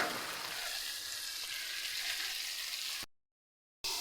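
Tomatoes fry in a pan for meal maker gravy, giving a steady, close crackling sizzle with some stirring for about three seconds before it cuts to silence.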